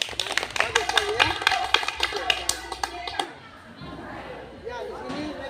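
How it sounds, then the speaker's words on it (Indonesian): A school class claps together during a floor gymnastics lesson, brisk applause lasting about three seconds before fading into children's chatter and movement. "Baik, tepuk tangan dulu."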